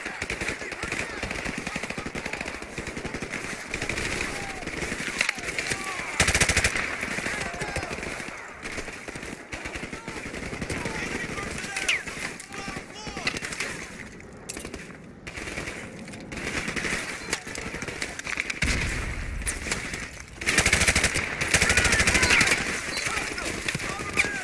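Dense video-game gunfire from Call of Duty: Modern Warfare Remastered on the War Pig mission, with rapid machine-gun bursts and scattered single shots rattling almost continuously and some heavier booms, mixed with faint background voices.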